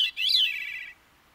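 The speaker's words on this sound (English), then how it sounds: "That lets some songbirds, like this Veery, sing two separate melodies at the same time." Veery songbird singing a single clear, loud phrase of swirling, descending-and-rising tones that seem to layer two melodies at once, then fading out.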